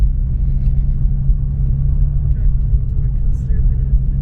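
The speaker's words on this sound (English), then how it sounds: "I think the loudest offering that Invidia has for their exhaust lineup for the BRZ" Subaru BRZ fitted with an Invidia N1 catback exhaust, heard from inside the cabin during normal daily driving: a steady, loud low exhaust drone and road rumble that holds evenly throughout.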